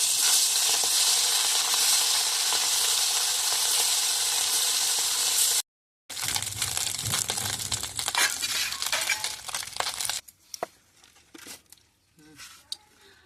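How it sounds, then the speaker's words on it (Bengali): Small mourola fish go into hot oil in a wok one by one, giving a loud, dense, close sizzle that cuts out briefly, returns crackling, then thins to scattered pops, with some talking. "তেলটা গরম হয়ে গেছে, এবার মাছগুলো আমি দিয়ে দেবো এক একে।"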